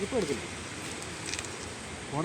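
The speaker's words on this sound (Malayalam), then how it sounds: "മഴ ഭയങ്കരമായിട്ട് പെയ്യുന്നു" Steady heavy rainfall hisses in the background while a voice speaks briefly at the start and end.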